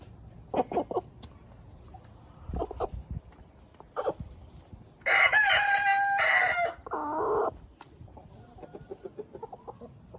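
Chickens clucking in a coop, with soft scattered clucks and then a loud, close rooster crow of several seconds, followed by more clucking.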